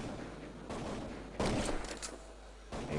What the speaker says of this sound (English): Hear a bit of wall banging in the distance.